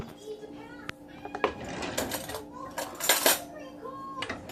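Metal cutlery clinks and scrapes near the stove as a small spoon is picked out for tasting homemade kitchen-scrap broth, with a few sharp taps and rattles over a low kitchen hum and brief murmured talk.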